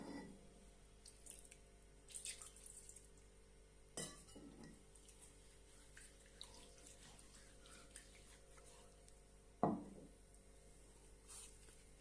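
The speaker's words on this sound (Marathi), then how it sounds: "आता आपण स्वच्छ असं धुवून घेऊया" A new stone grinding slab and pestle being scrubbed and rinsed with water, with scattered clanks and knocks of stone and utensils, splashing and scraping at close range, and one sharp louder knock near the end.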